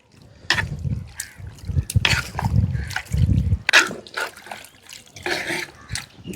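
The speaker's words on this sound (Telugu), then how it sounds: "ముక్కలు బాగా ఉడకడానికి నీళ్ళు పోసుకుందాం." Water poured into a pot of chicken curry made with a large country chicken, gurgling and splashing in uneven bursts close by.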